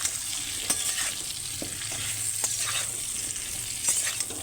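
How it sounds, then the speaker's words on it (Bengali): Cumin and spices stirred in a hot frying pan, a constant soft sizzle with occasional scraping clicks of the spoon against the pan, close and without any talk. "জিরেটা ভালোভাবে নাড়িয়ে দিই"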